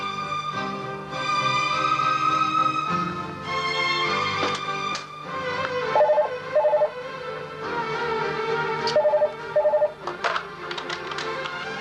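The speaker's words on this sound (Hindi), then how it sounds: "आपके लिए फोन है" A telephone rings in repeated electronic trills over steady background music, the rings coming in short pairs partway through.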